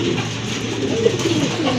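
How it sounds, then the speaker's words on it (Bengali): Pigeons cooing at a bird sale: a low, soft, continuous murmur of coos, close by and brief. "খুবই খুবই চমৎকার আরেক জোড়া কবুতর, খুবই ইউনিক কবুতর, দেখার মতো কবুতর।"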